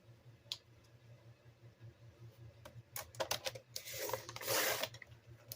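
A cutter slices one long cut down a paper bag, giving a close run of crisp clicks and scraping rasps that build into a louder tearing rush near the end.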